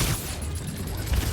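Sniper gunfire during combat in the video game Spider-Man: Miles Morales, a dense, steady run of shots and low booms with a heavy thump near the end.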